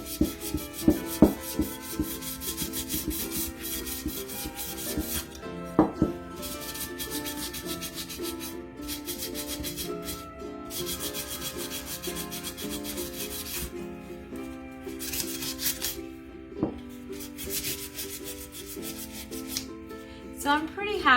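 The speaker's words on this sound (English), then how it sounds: "press a little bit harder with the sandpaper" Sandpaper rubbing over a painted glass beach jar in a craft project, a steady scratchy back-and-forth rasp that repeats in even strokes with brief pauses and occasional knocks of the jar.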